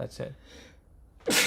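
A single sharp, loud sneeze bursts out at the end, after a few brief spoken words.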